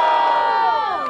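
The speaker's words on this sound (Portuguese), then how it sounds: "Barulho para as rimas do Kenai!" A crowd at a freestyle rap battle final roars and shouts loudly, with high-pitched cheers and yells blending in one short, close burst.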